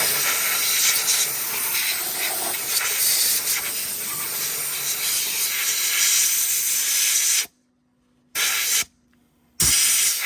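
Compressed air blasts brake cleaner off a rear brake pipe on a BMW X5 E53, a loud steady hiss for several seconds, then two short sharp bursts with silence between.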